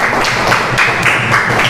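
Students in a science classroom clap together in a short, dense burst of applause, close and fairly loud, with no one speaking over it.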